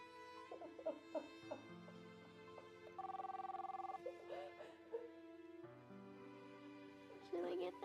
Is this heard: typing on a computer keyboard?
no